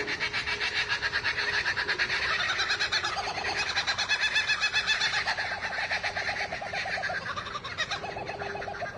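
A bird calls over and over in steady, rapid pulsing phrases, loud and close, with a constant buzzing texture and no voices, the kind of call passed off as a king cobra crowing.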